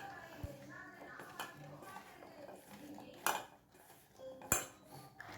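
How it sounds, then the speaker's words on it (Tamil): A spoon clinks and scrapes against a bowl while baby corn is tossed with flour batter, giving irregular light taps and a couple of sharper knocks over quiet kitchen background. "இந்த மாவு பேபி கார்னோட எல்லா பக்கமும் ஸ்ப்ரெட் ஆகிற மாதிரி நல்லா கலந்து வச்சுக்கோங்க."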